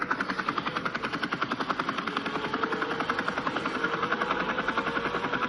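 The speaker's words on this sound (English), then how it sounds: "we got our first helicopter shot" A helicopter's rotor thuds in a fast, steady rhythm over a droning engine hum in the racing video game F1 24 at the Abu Dhabi Grand Prix, loud and continuous throughout.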